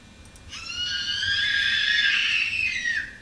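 Several young voices scream together in one long, shrill, sustained wail that swells and fades over a few seconds.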